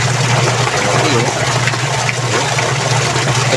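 A Eureka washing machine runs with water in the tub after its weak-spinning motor has been adjusted, giving a steady, loud churning wash and low motor hum throughout, with no talk.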